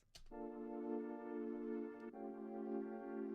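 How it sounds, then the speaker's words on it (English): A sustained synth chord rings out, a rich dominant seventh with a soft attack, briefly re-struck partway through and held steadily at moderate volume. "we build a dominant 7th chord"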